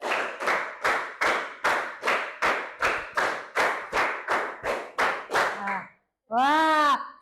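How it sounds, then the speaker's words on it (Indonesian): A group claps in counted sets, about a dozen sharp, evenly spaced claps in steady rhythm. A voice speaks briefly at the end. "Tepuk 1 kali, tepuk 2 kali, tepuk 3 kali, tepuk 4 kali"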